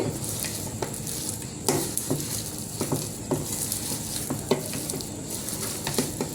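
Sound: mixing mushroom pieces into pakodi batter

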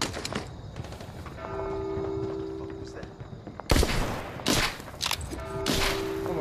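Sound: gunfire in The Walking Dead: Saints & Sinners video game

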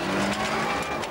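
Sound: rally car pulling away in first gear

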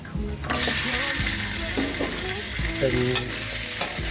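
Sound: pork being stir-fried with garlic and pepper

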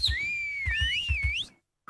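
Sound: person whistling to call a horse, Minecraft video

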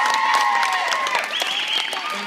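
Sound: audience applause

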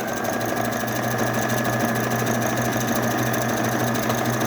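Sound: sewing machine stitching synthetic umbrella gown fabric

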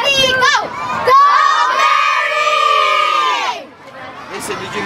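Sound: children shouting and cheering for Mary

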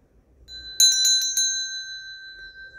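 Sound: notification bell sound effect

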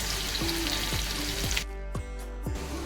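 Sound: garlic frying in oil in a pan

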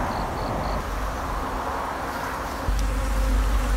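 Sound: honeybees buzzing around a nest in an old sofa

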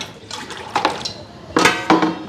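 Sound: water poured onto spinach greens to wash out sand

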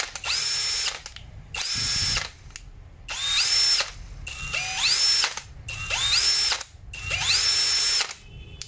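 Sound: cordless drill driver running

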